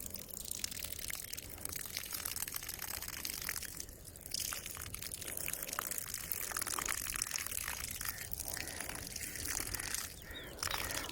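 Water splashes and pours onto freshly planted tomato plants in soil, a continuous close trickle and spatter, with faint birdsong in the background.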